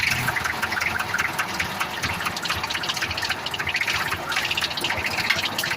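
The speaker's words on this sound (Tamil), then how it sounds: "வண்டி ஸ்டார்ட் ஆகிவிட்டது." A mobile crane's engine runs at idle just after starting, a loud, steady diesel rumble with broadband clatter and hiss that holds evenly throughout, with no voices.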